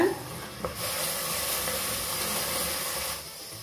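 Ground onion paste is stirred into ginger garlic paste frying in a pan, producing a steady close sizzle and hiss with a soft scrape near the start, without talking.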